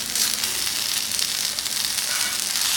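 Brinjal fry coated in masala sizzles loudly and steadily in a hot pan just after being turned over, a bright continuous hiss with no talking.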